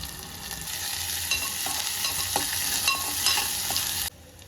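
Onions frying in a pan with ginger-garlic paste and a pinch of asafoetida, giving a loud, continuous close sizzle with faint stirring clicks that stops abruptly near the end.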